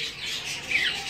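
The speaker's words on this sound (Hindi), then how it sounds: "और नीचे आस्ट्रेलियन तोते" Australian parrots in an aviary give a close, harsh squawk that rises sharply near the end over a soft hiss of background chatter.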